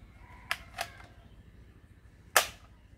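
A black toy BB gun firing three sharp, snappy shots close by. Two come in quick succession, then a third follows after a pause, against a quiet background.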